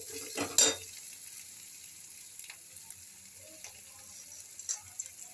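Okra being stirred in a pan with meat masala powder, a faint steady sizzle with a couple of sharp utensil scrapes and clinks near the start and softer taps later.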